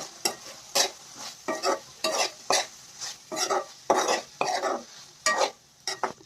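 A spatula scrapes and stirs a gorchikkudu bean fry in a pan, rhythmic bursts of stirring about twice a second over a light sizzle, close and fairly loud.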